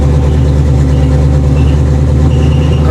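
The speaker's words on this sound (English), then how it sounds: "Oh, we got a belt squeal." A 1987 Monte Carlo SS engine runs loud and close under load, a heavy steady rumble with a thin, high belt squeal rising faintly above it toward the end, likely the alternator belt dragging.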